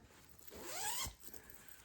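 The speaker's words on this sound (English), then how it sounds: "It's got a zipper." A zipper on a fully lined fabric bag, roughly 20 by 15 inches, is pulled once in a quick rising zip lasting under a second, close and fairly quiet, with no talk.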